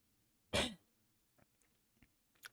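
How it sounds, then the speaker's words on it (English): One sharp, close cough bursts out, followed by a few faint, scattered small clicks and breaths in an otherwise quiet room. "All these weird coughs."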